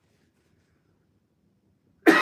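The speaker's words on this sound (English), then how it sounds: "Yes, that was a cough." One sharp, close cough bursts out at the very end after near silence, with nothing else heard.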